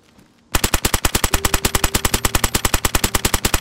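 A rapid burst of automatic gunfire from a newly added gun in DayZ version 1.16, a steady run of loud, evenly spaced shots after a short quiet lead-in, with no talk.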